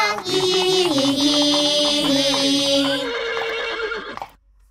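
A horse gives a loud, clear neigh that rises and falls in a long whinny before trailing off into silence.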